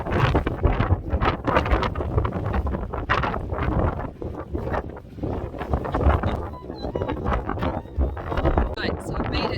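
Gale force wind buffeting a microphone outdoors, a dense continuous roar and rumble with gusty surges, and a person talking now and then underneath.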